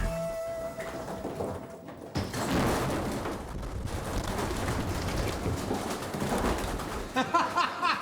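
Pigeons flutter and beat their wings inside a truck, a dense, continuous rush of flapping that fills the space with faint cooing through it and no voices.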